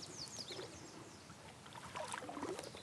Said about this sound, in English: So far I've just been paddling along the shallows